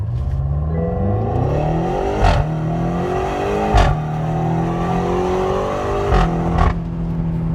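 A BMW X6 M (F16) with its stock turbo exhaust revs loudly and close by, the engine climbing and falling through several sharp blips with crackles between pulls, alone with no talking.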